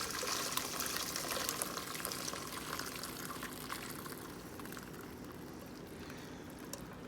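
Chicken stock pours steadily into a bowl with a continuous gushing splash for several seconds, close by and fairly loud, with no talking.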